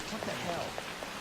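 Rain falls on city streets in Persona 5, a steady soft hiss with scattered patters throughout a brief moment.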